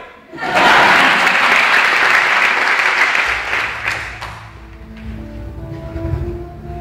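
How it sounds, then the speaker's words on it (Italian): Audience applause at a resort animation show swells quickly into a loud burst of many hands clapping, then fades after a few seconds as low background music and room noise take over. "Applauso, grazie."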